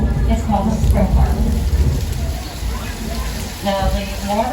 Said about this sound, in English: And how do we create rain? A high-tech special effect is called a sprinkler.